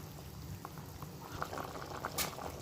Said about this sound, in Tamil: இப்போ பாருங்கள், மீன் கொதிச்சிட்ருக்கு.